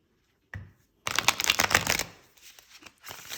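Tarot cards shuffled close up: a brief riffle, a pause, then a dense burst of rapid card flicks and slides that tapers into softer, scattered shuffling, with no talk.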